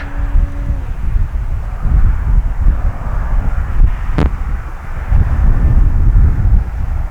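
An E-flite Carbon Z T-28 RC airplane flies a pass with a steady electric motor drone, with wind buffeting the microphone throughout and a brief whine partway through.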